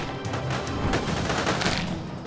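Gunfire rattles and thuds against a character in the post-apocalyptic survival game Judgment: Apocalypse Survival Simulation, a dense, continuous clatter of shots and impacts with no pauses.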